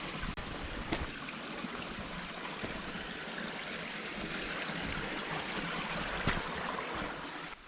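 Rainwater after heavy rainfall running down a mountain path in the Lake District near Grasmere like a stream, a constant close rushing and trickling wash with no voices.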